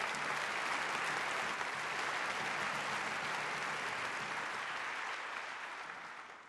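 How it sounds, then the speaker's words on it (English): Sustained audience applause at an evening university campaign event, a dense, steady wash of many hands clapping that holds loud throughout and begins tapering off in the last second. "Let's give them all one more round of applause."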